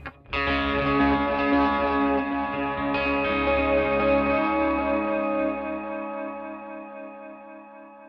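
A Strymon Volante echo pedal gives a Space Echo-like tape echo: a distorted, sustained tone with repeating echoes that sounds suddenly, rings for several seconds and slowly fades out.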